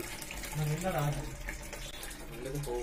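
Water running steadily into a western toilet flush tank being fitted, a soft continuous trickling fill heard close by under someone talking.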